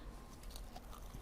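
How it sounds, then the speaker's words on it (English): A single bite into a New Orleans-style beignet at a restaurant, a short soft crunch and brief chewing, close up, with no voices. "I am going to take a bite of this beignet"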